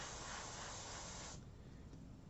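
An airbrush sprays paint onto a portrait with a steady, close hiss that cuts off partway through, leaving a softer airy trickle afterward.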